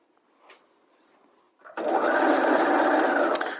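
A sewing machine stitches in the ditch with black thread on muslin while attaching a waistband to a garment: a few faint handling clicks, then a loud, steady close whir that runs to the end.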